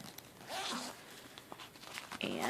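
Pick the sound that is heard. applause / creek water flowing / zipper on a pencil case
zipper on a pencil case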